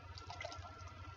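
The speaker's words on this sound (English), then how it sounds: "So you just keep pouring your milk in until you get to that" Milk pouring steadily into a pot while making potato soup, a continuous faint liquid splash and gurgle with no break across the whole moment.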